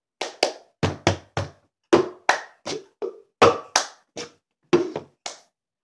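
Cup song rhythm played alone with hands and a cup, a sequence of crisp claps, palm slaps and knocks on a tabletop in a steady patterned beat, close and distinct with clean gaps between hits.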